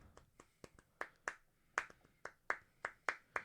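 Hands clap about a dozen times in an uneven rhythm, each clap a crisp, close smack, fairly quiet, with no talking over them.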